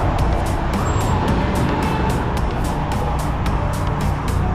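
Tesla Plaid electric car passing along a street, a steady broadband rush of tire and road noise, fairly loud and close, with no speech.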